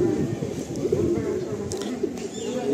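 Pigeons in a loft coo softly and continuously at close range, low throaty murmuring calls overlapping throughout with a few faint higher chirps.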